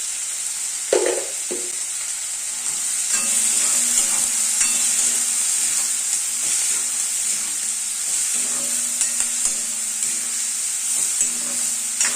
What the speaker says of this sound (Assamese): কেৰাহীখনৰ তেলখিনি এতিয়া গৰম হৈ গ'ল। ইয়াতে মই লেটা আৰু পিঁয়াজখিনি দি দিছোঁ।